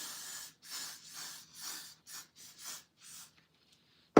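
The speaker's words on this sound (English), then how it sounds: "I'm spraying my hair down," A spray bottle mists hair in a series of short hissing bursts, about eight quick pumps in an irregular rhythm close to the microphone.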